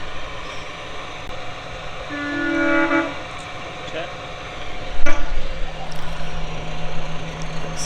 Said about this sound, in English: It's the other diesel loco, isn't it?